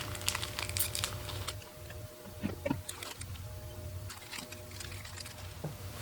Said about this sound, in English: I've opened up all the plastic bags